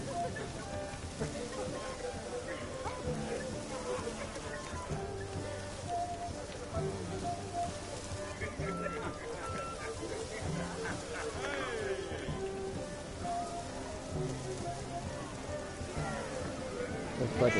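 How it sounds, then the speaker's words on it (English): Steady rain falls in The Witcher 3, a continuous soft hiss of drops on surfaces that holds evenly throughout, mixed with quieter game background sounds. "Looks like it's starting to rain."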